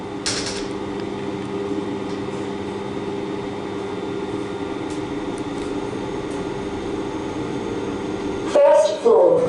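A 2017 KONE Monospace machine-room-less lift at Pukekohe Railway Station runs with a steady low mechanical hum and faint creaks, then louder mechanical clunks near the end.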